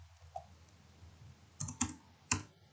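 A computer keyboard is typed on in a quiet room, with a few soft taps and then a short burst of sharper key clicks close by.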